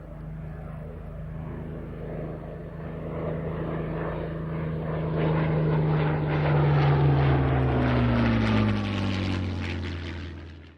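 A Spitfire aeroplane engine passes overhead, a droning propeller roar that swells as it approaches, peaks, then drops in pitch and fades as it flies away, heard alone.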